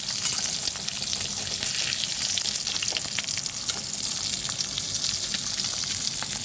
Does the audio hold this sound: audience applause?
no